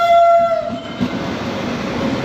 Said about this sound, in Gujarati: જોઈ લો ટ્રેન આવી